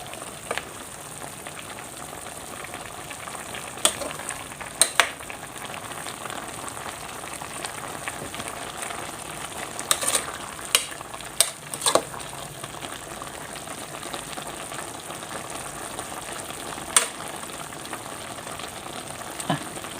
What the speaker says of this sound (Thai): เสียงเป็นเดือดเนาะ